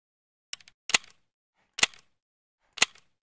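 Four sharp suppressed AK rifle shots in the shooter game Escape from Tarkov ring out one at a time with uneven gaps, each a crisp short crack against silence.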